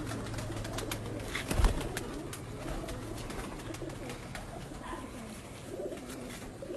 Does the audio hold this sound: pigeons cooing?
yes